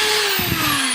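A power drill bores a hole in a grass cutter part, a loud continuous whirring whine with slight pitch drift across the brief moment.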